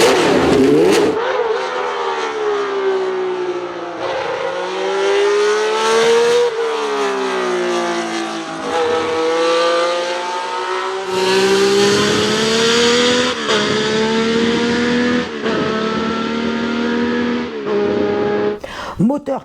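A Ferrari Formula 1 naturally aspirated 180-degree V12 from the 1970s revs hard, its pitch climbing and falling in repeated loud sweeps, with a voice talking over it.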